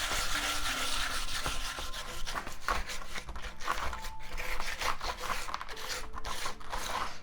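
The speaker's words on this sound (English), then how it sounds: "50 grit sandpaper," Coarse 50 grit sandpaper rubs over a lightweight concrete bonsai slab in steady, continuous scraping strokes at close range, with no talking.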